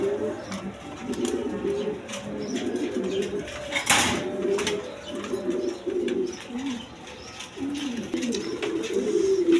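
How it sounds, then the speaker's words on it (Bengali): Pigeons, Sirazi and Magpie Danish breeds, coo almost nonstop in overlapping low rolling calls, near and fairly loud, with a brief clatter partway through and scattered chirps. "দর্শক এখানে একটা নর কবুতর আছে দেখেন, বিগ সাইজের সিরাজি নর"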